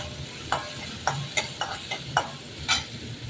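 A ground green chilli and garlic paste fries in a pan, with a steady sizzle beneath it. A spoon stirs and scrapes the pan in several sharp clicks at irregular intervals, up close, and no voices are heard.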